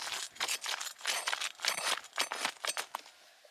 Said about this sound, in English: Sounds like I'm rolling a big glass boulder around.